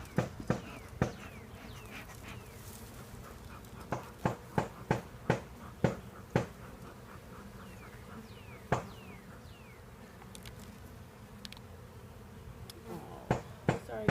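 Bees buzz around a beehive on a farm in Manoa, a faint continuous drone broken by sharp, irregular knocks and taps, some in quick runs.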